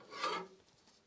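A metal file rasps once across a blade to put a convex grind on it, a single short scraping stroke that is soft and close, heard alone.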